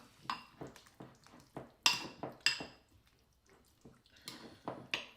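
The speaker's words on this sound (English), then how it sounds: "Give it a nice little mix up in here." A spoon stirring dill paste into a pot of borscht, giving a series of sharp metallic clinks and scrapes against the pot in uneven bursts, fairly close and alone.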